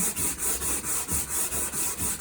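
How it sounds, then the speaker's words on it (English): A sanding block rubs over drywall to knock down rough spots, making about ten rhythmic back-and-forth scratchy strokes, close and even-paced, with no talk. "we're just going to kind of make a sanding block out of this, and any of the rough spots, we'll just knock those down."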